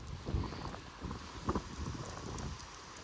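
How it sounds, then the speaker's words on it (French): Strong storm wind buffets the microphone in steady broadband gusts, with rumbling low bursts and a few sharper peaks, loud and unbroken throughout with no one speaking. "le vent il s'arrête jamais"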